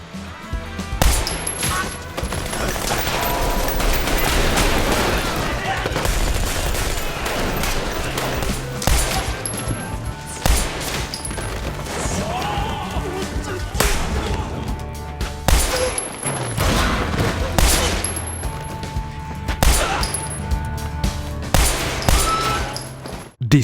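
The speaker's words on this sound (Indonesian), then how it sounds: "dia langsung membantai mereka menggunakan pistol rakitan Yaguchi" Bursts of gunfire from a homemade Yaguchi pistol in an action film, with rapid repeated shots and impacts mixed with crashes and clinks over a dense, loud soundtrack.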